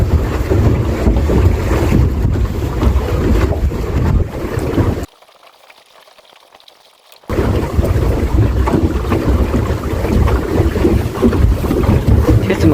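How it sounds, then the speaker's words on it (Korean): Strong wind at sea off Mokpo during sea bass fishing roars and buffets the microphone in a heavy continuous rush. It cuts out to near silence for about two seconds in the middle, then resumes just as loud. "일기예보가 괜찮은데 바람이 많이 붑니다"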